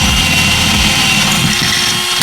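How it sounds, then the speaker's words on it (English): A power drill whines loudly and close up, its motor pitch wavering as it bites into a metal bolt for a couple of seconds. "I've been using it to drill a hole into the bolt"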